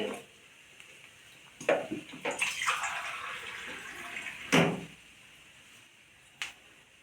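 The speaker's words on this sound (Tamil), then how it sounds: "ஒரு டம்ளர் தண்ணியும் விட்டுக்கலாம் இது பாலும் தண்ணியும் விட்டாச்சு" Milk and water are poured into a pot on a stove for a festival sweet, with several faint splashing pours and clinks spread across a quiet kitchen.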